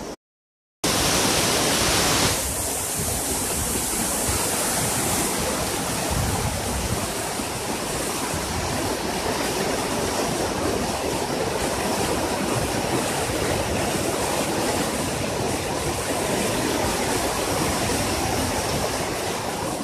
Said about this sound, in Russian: Здесь водопад начинается.